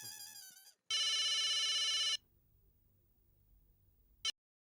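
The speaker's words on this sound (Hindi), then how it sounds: "मैं अभी अब्दुल को फोन करता हूँ।" A phone ringing on speakerphone, its electronic ringtone playing in a loud steady burst, followed by a quieter hum and a brief final chirp before it cuts off.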